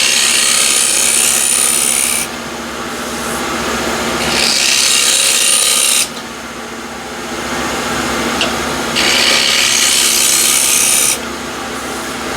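Walnut on a wood lathe being cut with a shear scraper, giving a steady loud scraping, rasping hiss that comes in three long passes, with quieter motor hum between them and no talk.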